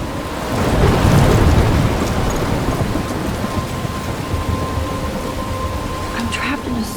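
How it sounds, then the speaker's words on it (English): Thunderstorm with heavy rain in Life Is Strange, a dense steady roar of downpour with a deep rumble of thunder swelling early, then continuous rain hiss, loud and close, without speech. "I'm trapped in a storm?"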